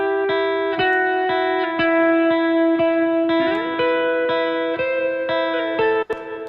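A looping guitar phrase of clean, plucked notes repeats in a steady rhythm, each note ringing out with a spacious reverb tail.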